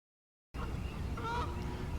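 Geese honk at a duck pond in West Newton, Pennsylvania, a few calls rising over steady outdoor background noise after a brief silent start, with no talking.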